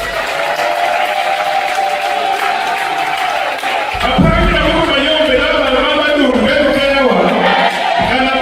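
Wedding guests at a Congolese celebration break into loud applause and cheering partway through, a dense crowd roar over music and background chatter that swells and holds near the microphone.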